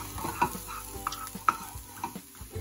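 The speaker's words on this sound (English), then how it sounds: "we're gonna stir this up because we wanna have it incorporated with the rest of the corn" Corn, onions and garlic being stirred in a pan for breakfast burritos, a few sharp utensil scrapes and taps over a low sizzle, brief and close with no talk.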